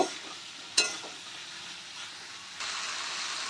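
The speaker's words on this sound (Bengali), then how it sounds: "আমি এবার ঝিঙে আর আলুটা ফ্রাই করে নেব।" Soft sizzling of ridge gourd and potato frying in a pan, with a brief clatter of stirring and a steady hiss that grows slightly louder toward the end.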